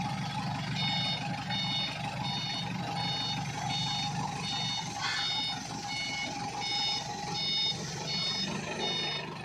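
A forklift or JCB training vehicle reversing, its warning beeper pulsing at a steady rhythm over a low idling engine rumble, moderately close with no voices.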